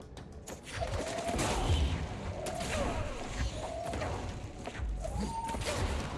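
Gunfire in the video game Control: a steady, dense barrage of shots over a loud, continuous battle din, with repeated bursts across the whole stretch and faint game tones in between.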